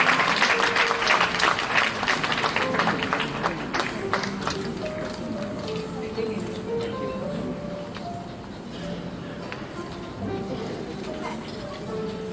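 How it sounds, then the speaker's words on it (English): Sustained audience clapping at a school annual prize distribution, a steady, dense roar of many hands that eases gradually, with a voice and some background sounds partly audible beneath. "Please give them a huge round of applause."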